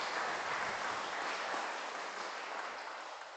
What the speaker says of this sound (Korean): 격려의 박수 한번